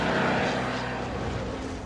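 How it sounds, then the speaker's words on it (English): A Spitfire fighter plane roars steadily overhead, its propeller engine loud and continuous, with no voices over it. "I'm actually flying a Spitfire."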